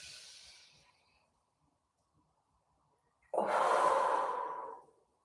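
Deep breathing during a stretching exercise: a soft inhale fades out, a long silent pause follows, then a louder, fuller exhale rushes out for over a second, close to the microphone.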